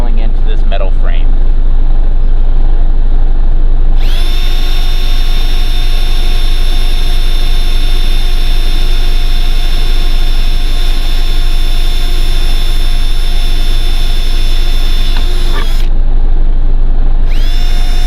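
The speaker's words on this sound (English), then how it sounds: "something that's going to handle drilling into this metal frame." A power drill drilling into a metal RV frame whines loudly and steadily at high pitch for a long stretch, cutting out briefly near the end before starting again.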